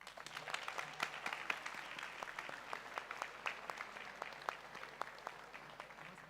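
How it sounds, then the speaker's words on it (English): An audience at an awards ceremony applauds in a steady, moderately distant wash of many hands clapping with no letup. "Another round of applause for the winner"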